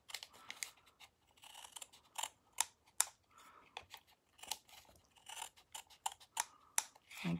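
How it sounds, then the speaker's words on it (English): Scissors snip through paper card, trimming one side down for a Stampin' Up! craft, giving a quiet series of short, crisp cuts in irregular rhythm, close by and free of talk. "So I am just going to trim this side down."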